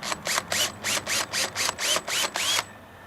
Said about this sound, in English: go ahead and pre-drill your first hole